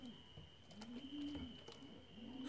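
Pigeons coo in a loft, a steady series of soft, low, rolling calls close by, repeating over faint background noise.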